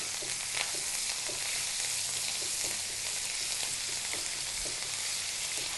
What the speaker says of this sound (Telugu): అల్లం వెల్లుల్లి పేస్ట్ పచ్చివాసన పోయే వరకు మనం కొద్దిగా నూనెలో వేయించుకోవాలి